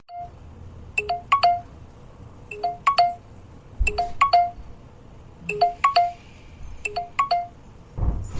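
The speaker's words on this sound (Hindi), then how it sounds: "ओहो इतनी सुबह सुबह किसका फोन आ रहा है?" A telephone rings in an animated household scene early in the morning: short bright electronic ringtone bursts repeat in evenly spaced groups, clear and fairly close, with no talking over them.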